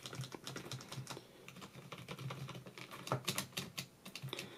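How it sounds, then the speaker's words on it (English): Typing on a cheap XENTA MT-K201 USB keyboard, a brisk run of close, clacky keystrokes in uneven bursts with short pauses, loud and alone without any talking. "it seems to be my keyboard for typing"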